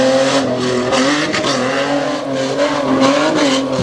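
A 4-wheel drive Redline Ranger racing truck drives around a dirt track in Abbottstown, Pennsylvania, its engine roaring loudly and close, the pitch wavering as it accelerates, with hints of tire squeal.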